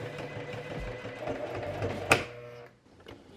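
A sewing machine stitching Victorian corset panels together whirs close and steady for about two seconds, then a sharp clack and the motor winds down into quiet.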